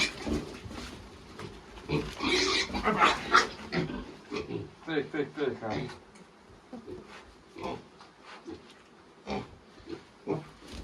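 Piglets being dewormed on a farm, grunting and squealing in close, busy bursts while a person speaks softly to calm them.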